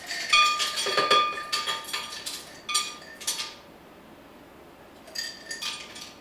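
Several ice cubes clatter and clink into a blender jar in a quick scattered burst, a short pause, then a few more rattles.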